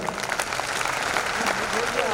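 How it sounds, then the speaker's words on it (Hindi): Applause from an audience at a diamond-ship award speech, a short burst of clapping with a voice speaking over it. "मैडम के लिए जोरदार तालियां।"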